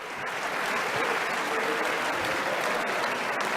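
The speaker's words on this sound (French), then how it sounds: "C'est rare une telle salve d'applaudissements pour un ministre après une réponse." Sustained applause fills the French National Assembly for a minister after his answer, a steady, thick burst of clapping from many hands lasting a few seconds.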